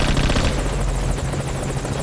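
A helicopter hovers close by in the stealth video game Metal Gear Solid V: Ground Zeroes, a loud, steady rotor chop with a constant engine roar that fills the whole stretch.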